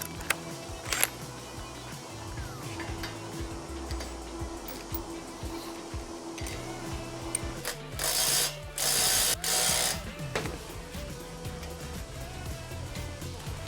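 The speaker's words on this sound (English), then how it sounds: "To tighten these, this is a 1/2 inch bolt and nut. So you're going to need a 3/4 set of wrenches or socket." A ratchet wrench or socket tightens a 1/2 inch bolt and nut on a roller kit build, with repeated close clicking ratchet strokes in bursts and a louder, denser run of clicks near the end.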